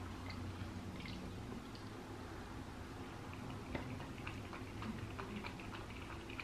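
A Malshi puppy drinking water: quiet wet lapping and small drips, irregular soft ticks over a low steady background hum.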